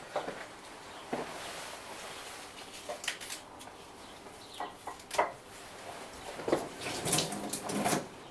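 Fresh leafy greens are washed under a running kitchen tap, a soft, steady stream of water with occasional splashes and rustles as the leaves are handled nearby, fairly quiet throughout.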